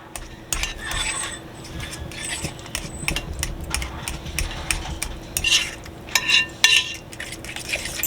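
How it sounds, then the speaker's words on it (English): A spoon scrapes and clinks against a bowl while mixing muffin batter with banana and Nutella, giving irregular close taps and stirring scrapes that come in quicker bursts toward the end. "Give that a really good mix"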